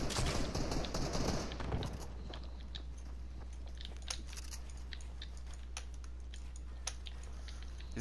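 Rapid bursts of gunfire from the video game Fortnite crackle loudly at the start, then give way to sparse, sharper shots and clicks over a constant low hum.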